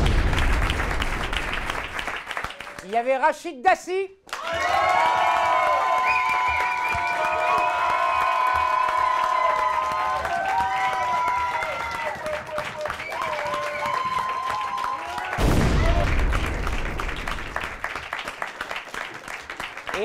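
A television studio audience claps for an applause meter on a comedy show, with a loud burst of applause opening the stretch, a voice talking in between, and a second wave of clapping rising near the end.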